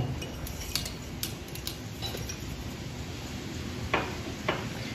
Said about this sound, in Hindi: 2 से 3 मिनट के लिए हम इसे अच्छे से बीट करेंगे।